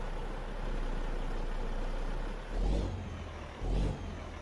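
An Autocar AT64 truck hauling cars in American Truck Simulator rumbles with a low steady engine drone, then gives two short deep revs as it creeps forward, with no voices.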